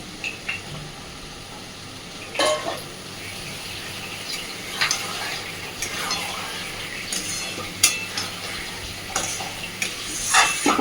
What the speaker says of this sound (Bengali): সেই ম্যারিনেট করা চিকেনটা এর মধ্যে দিয়ে দিচ্ছি।